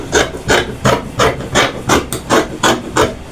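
Fabric being cut for the cuff of a long gown, a steady series of about nine crisp, evenly spaced scissor snips close by, with no talking.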